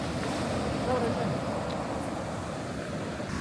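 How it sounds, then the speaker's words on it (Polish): Large waves roll onto the black sand beach at Iceland's glacier lagoon, a steady, dense roar of surf with wind buffeting the microphone and no clear breaks. "Ale są duże przypływy, nie? Znaczy duże fale, fale no."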